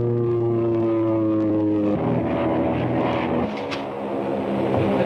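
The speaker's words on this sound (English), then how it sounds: "There's another plane coming at us" A propeller airplane drones overhead in the 1937 film Dick Tracy, a steady loud engine hum with a slight shift in pitch partway through, continuous and without talk.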